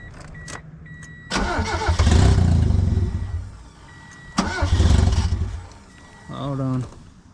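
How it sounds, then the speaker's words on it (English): A turbocharged Mazda 121 cranks and fires up twice, each time settling into a steady engine run before cutting off. A final short crank follows. The engine is loud and close, with no talk over it. "I'll take it out of gear, sorry, and I'll just crank it over."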